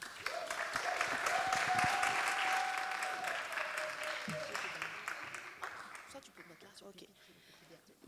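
An audience at an entrepreneurs' speed-dating event applauds for Perrine, a full burst of clapping that swells, holds, then thins out toward the end, with a faint voice tone running beneath.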